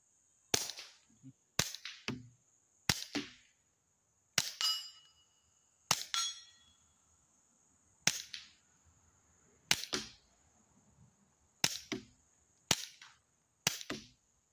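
A series of sharp, muffled cracks from subsonic rimfire rounds through a Resilient suppressor, about a dozen spaced roughly a second apart, each a short clipped report with a faint metallic ring, quiet otherwise.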